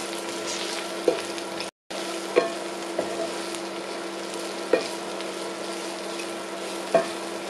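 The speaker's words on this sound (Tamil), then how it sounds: "கொத்தமல்லி பவுடர், மஞ்சத்தூள் இதெல்லாத்தையும் போட்டு நல்லா மிக்ஸ் பண்ணிட்டு 1 மினிட் வதக்கணும்" Coriander powder and turmeric sauté in a pan for a paneer peas curry, giving a low, steady sizzle close by. A spoon clinks and scrapes against the pan now and then, with no talking.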